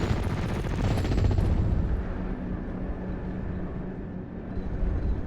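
Gunfire in the World War II strategy game Steel Division: Normandy 44 during a Normandy hedgerow battle, a dense continuous roar of shots and blasts that stays loud throughout with no talking.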